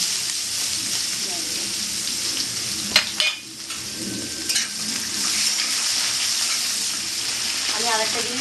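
Sliced onion dropping into hot oil with panch phoron for a Bengali rui fish kalia, a loud, dense frying sizzle throughout with a brief splash and clatter near the middle, close up, no voices.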